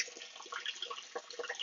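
Water trickling and gurgling through a pipe in an NFT hydroponics system, a close, uneven splashing flow with irregular bubbly bursts.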